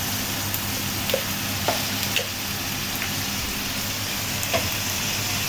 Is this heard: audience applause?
no